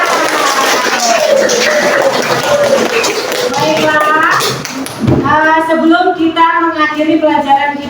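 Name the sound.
class applauding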